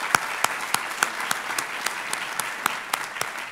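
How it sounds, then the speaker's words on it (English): Audience applause fills a security forum hall, a steady wash of clapping with sharper individual claps standing out, sustained throughout at moderate loudness. "Can we give these two guys a round of applause?"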